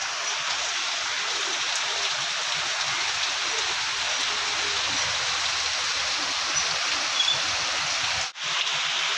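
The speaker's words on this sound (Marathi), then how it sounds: "थोडं पाऊस लागत आहे त्याला दाखवता बघा पाऊस" Heavy monsoon rain pours down steadily at a jetty in Ratnagiri in a dense, unbroken hiss, close and loud, with a brief dropout near the end.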